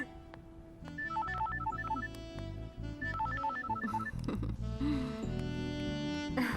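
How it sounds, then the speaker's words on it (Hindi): A telephone rings in a Hindi war action film scene, with a repeating electronic ringtone melody over a musical score, playing twice across the clip. "उसी का फोन होगा"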